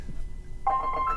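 A mobile phone rings during a library's Asian brush painting session, its bright electronic ringtone melody starting abruptly partway through and carrying on fairly loud over a quiet room.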